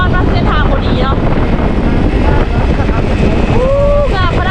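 Strong wind roars steadily across the microphone on a slippery mountain dirt trail in Mae Hong Son, loud and constant, with faint voices almost buried beneath it.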